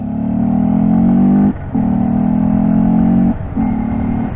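A Honda Grom engine with an aftermarket TST airbox roars steadily at full throttle, close and loud, with two brief dips where the throttle drops before surging back.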